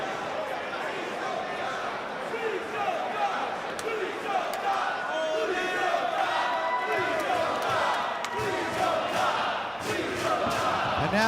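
A wrestling crowd buzzes steadily through a ladder match at a Ring of Honor event, a dense wall of chatter and murmuring with scattered shouts and sharp thuds rising out of the constant arena noise.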